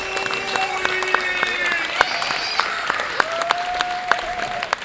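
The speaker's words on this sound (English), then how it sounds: "how about a nice round of applause for the host of today's show, Alex Ross." A studio audience at a horror makeup show applauds to welcome the host, steady dense clapping throughout with a few louder claps and faint tones and voices mixed in.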